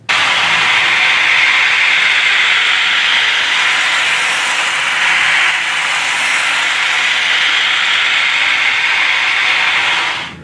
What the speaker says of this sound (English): the Trackmobile at full speed, both in forward and reverse.